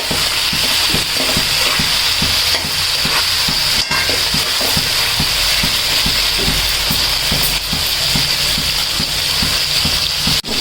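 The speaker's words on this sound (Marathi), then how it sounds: "वांग, बटाटा आणि कद्दू वगैरे आहे तो फ्राय करून घ्यायचा" Brinjal, potato and pumpkin frying in a pan with steady, dense sizzling throughout, broken by regular scraping strokes of a spatula stirring the vegetables, close and loud with no talking.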